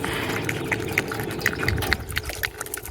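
Water poured or trickling into a bowl for dogs to drink on a hike at Castle Rock State Park in Oregon, Illinois, a steady liquid splash and drip sound running throughout with outdoor background noise.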